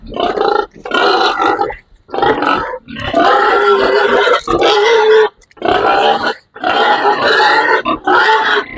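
A pregnant sow 105 days into gestation grunts loudly and close by in a series of long, rough, throaty bursts separated by brief pauses, about seven in all.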